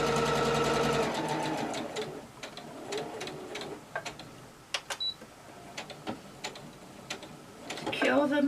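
Sewing machine stitching a blouse, a quick close whirring run that stops, then scattered soft clicks and handling taps, with another short burst of stitching at the end.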